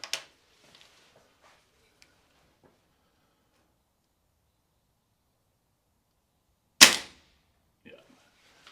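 A single sharp, close shot rings out from a Birmingham-made BSA Lightning CLX spring-piston air rifle after several quiet seconds, trailed by a few faint clicks.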